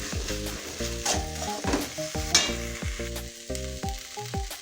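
Cooked rice being stirred into a tomato mixture in a pan, soft sizzling and spatula scrapes close by, partly covered by steady background music with no talking.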